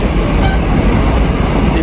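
A dense, loud rumble of a running train heard from inside the locomotive engine cabin, steady roar with faint rail clatter and no talking, on a journey from Bangkok.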